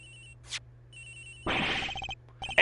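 A victim's mobile phone rings in the Ace Attorney Investigations: Miles Edgeworth video game, with short electronic ringtone bursts over a quiet game background hum.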